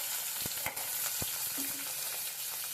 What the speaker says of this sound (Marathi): कमी आचेवर आपण मस्त परतून घेणार आहोत